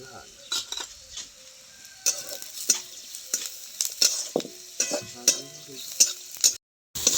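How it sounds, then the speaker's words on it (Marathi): Chopped onion and turmeric being sautéed for poha, with a spoon scraping and stirring the pan in irregular strokes over a faint, close sizzle. "मस्त असं पोह्याचं सगळं परतून घेतले."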